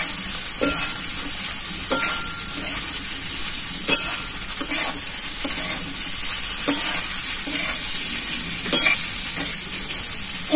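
Fried soybean chunks stirred through a sauce in a pan for a chili soybean dish, with a steady sizzle and repeated scraping strokes of a spoon every second or so, close and fairly loud, no talking.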